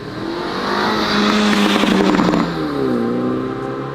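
Loud, close engine and exhaust of a previous-generation MINI John Cooper Works revving hard, with rising and falling pitch sweeps, crackles near the middle and a steady roar continuing throughout.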